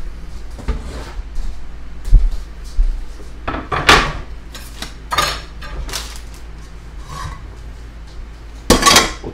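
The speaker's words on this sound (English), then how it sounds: "So I'll get a chopping block here." A wooden chopping block clunks down among scattered kitchen knocks and clatters, several sharp thuds spread out, close by with no speech.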